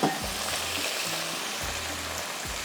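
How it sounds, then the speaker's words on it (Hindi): Potato pieces frying in hot oil with mustard seeds, a loud, steady, close sizzle crackling throughout with a few faint low knocks beneath. "आलू हम डालेंगे पहले।"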